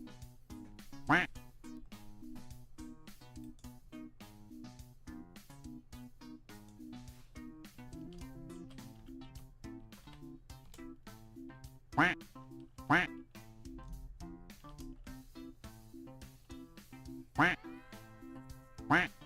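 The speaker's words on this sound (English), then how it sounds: "Now it quacks anytime somebody types ! Quack." A duck quack sound effect triggered by a chat command plays four times, short and loud, over steady background music.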